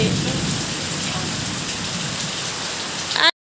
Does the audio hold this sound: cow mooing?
no